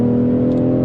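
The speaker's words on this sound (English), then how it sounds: "so far we've obviously covered that wonderful exhaust note" Exhaust from a 2020 BMW X3 M40i, a steady, loud, low engine drone held evenly at idle or cruise, with no talking.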